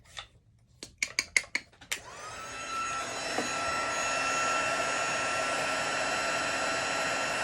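A heat tool blasts hot air onto embossing powder on an acetate sheet, starting after a few sharp clicks and taps, then settling into a steady, fairly loud whooshing roar with a faint whine.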